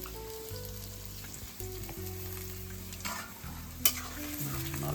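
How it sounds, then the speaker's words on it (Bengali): Onions fry and get stirred in a pot while biryani is cooked at home, a steady sizzle with scraping spoon strokes and one sharp clink, heard alone without voices. "পেঁয়াজ ভেজে নেওয়া হচ্ছে"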